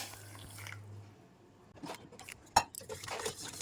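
A spoon stirring drink mix and sugar in hot water, heard as faint scattered clinks and soft scraping, with one sharp ring against the vessel in a quiet room.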